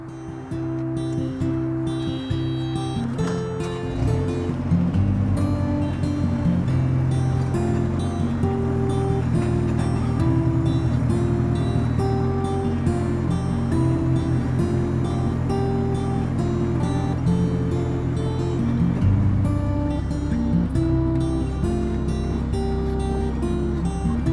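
Mini excavator backing off a trailer, its diesel engine droning steadily and loudly up close with shifting hydraulic tones as the load changes, continuous throughout.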